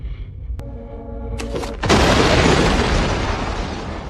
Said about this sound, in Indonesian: begitu kotak tersebut dibuka, seketika terjadi ledakan besar